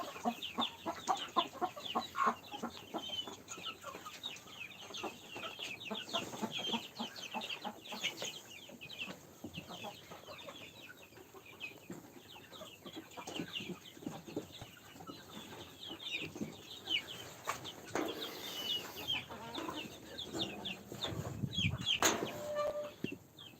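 Chickens cluck and murmur continuously, several birds close by, with occasional wing flaps and scratchy movement in a quiet outdoor setting.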